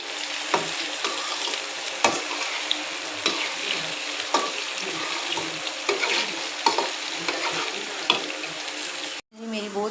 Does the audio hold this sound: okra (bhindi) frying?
yes